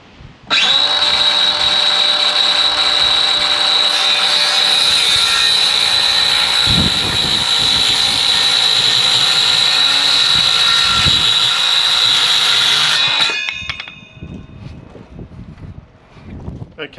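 A cordless circular saw cuts through studwork timber, a loud, sustained high-pitched whine lasting about thirteen seconds before the blade winds down, followed by quieter handling noises.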